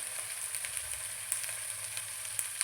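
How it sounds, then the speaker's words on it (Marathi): Masala with red chili powder frying in oil gives a dense, even sizzle up close, with a few sharp pops and crackles and no voices. "याला ना तेल सुटेपर्यंत भाजून घ्यायचं"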